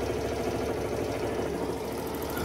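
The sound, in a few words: Honda Access 125 scooter engine idling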